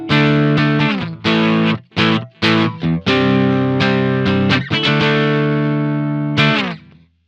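An electric guitar played through an AI-made amp simulator with a distorted, effects-laden tone: bursts of chords and riffs with brief gaps, ending in a sustained ringing note.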